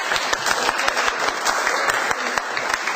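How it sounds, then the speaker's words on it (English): An audience claps for a speaker in a hall, with busy, close clapping and sharp individual hand slaps standing out throughout the short burst. "And don't we applaud him for that?"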